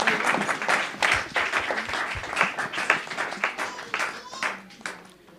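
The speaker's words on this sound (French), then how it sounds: "Applaudis Sœur Marie-Laure avec force pour moi" A church congregation at a praise and testimony night applauds with fast, uneven clapping, loud and close at first and thinning out toward the end.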